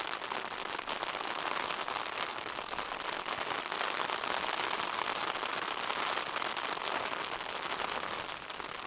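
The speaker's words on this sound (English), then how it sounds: "It's quite nice listening to the rain." Steady rain patters continuously on a nearby tent, a dense, even hiss of drops with no voices.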